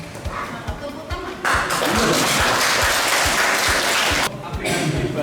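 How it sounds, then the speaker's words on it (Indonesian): Applause from an audience at a police app outreach session in Semarang, a loud dense burst of clapping in the middle flanked by quieter stretches, with steady low thumps running underneath. "Tepuk tangan."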